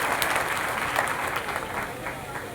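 An audience at a public inauguration event in Agar applauds to welcome a guest, with dense steady clapping for a few seconds and a voice faintly heard over it.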